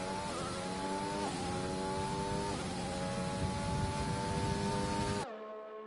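A race car engine in a racing video game on the Italian GP track holds a high, steady whine through a corner, the pitch stepping with gear changes before it cuts off abruptly.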